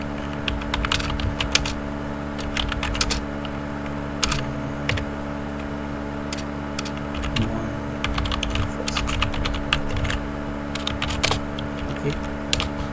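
Rapid, uneven keystrokes clatter on a computer keyboard while code is typed, close and continuous over a low steady hum, with occasional louder key taps.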